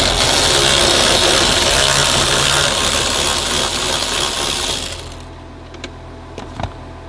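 A loud power tool whirs steadily as it backs a bolt out of an Audi Q7 seat, then stops, leaving a few light metallic clinks and taps in a quieter space.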